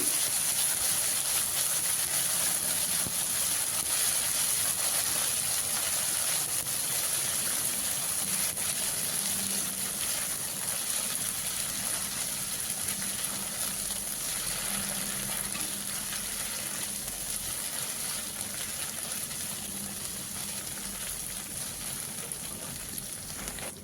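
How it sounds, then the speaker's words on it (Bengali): Ginger paste, cumin paste and green chili paste sauté in a pan for a bottle gourd kofta curry, giving a steady, close sizzling hiss that holds evenly throughout with occasional faint stirring. "এই মশলাগুলো আমি 2 মিনিটের মতো কষিয়ে নিচ্ছি"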